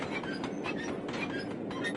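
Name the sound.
train in the Sly Cooper 2 video game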